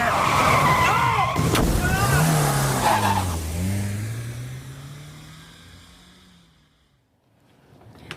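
A stolen Ford Escort skids with squealing tyres and revs hard as it speeds off, the loud engine roar sweeping down in pitch and fading into the distance.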